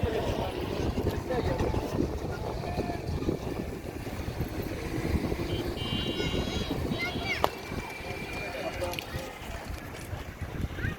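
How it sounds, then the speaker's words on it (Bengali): A boat on the Balu river: a steady engine drone and water rumble with wind buffeting the microphone, while people talk throughout. "এই বোটে কত টাকা নেয় চিতুস ঘুরতে?"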